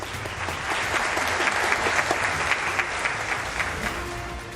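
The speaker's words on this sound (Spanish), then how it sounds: "Al aplauso, por favor." Dense, even applause from a large audience at an official presentation of the Ecuador 2030 Productive and Sustainable project, many hands clapping steadily throughout without pause.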